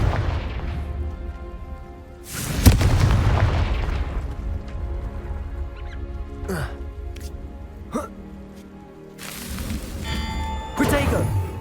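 Fire-blast spells explode in the video game Hogwarts Legacy, with a loud booming burst followed by a long rumbling decay, then further sharp blasts near the end amid other game effects.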